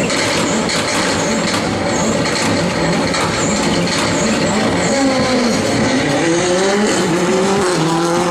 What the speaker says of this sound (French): Cette voiture numéro 16 qui boucle son premier tour, Mélissa de Baquereux et Cindy Coquelin.